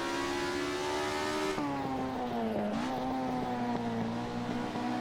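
A Ford Escort RS1600 race car engine in Assetto Corsa drones steadily at high revs, the pitch dropping under braking and then climbing again, loud and continuous from the driver's position.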